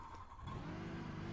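Racing truck engine at Michigan in the iRacing sim, droning steadily at speed with a constant mid-pitched hum and no speech.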